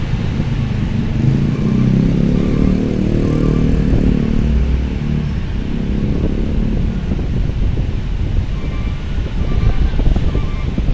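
Private cars and motorcycles move through a ferry port at night, a continuous loud engine rumble with passing vehicles and wind buffeting the microphone, a voice briefly audible in the mix.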